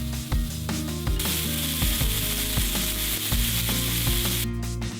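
Cheeseburger patties sizzle and fry on a grill over a campfire, a steady close crackling hiss running throughout with a few light scraping touches, no voices.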